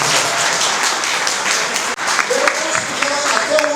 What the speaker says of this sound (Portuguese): uma salva de palmas para a Caixa Econômica Federal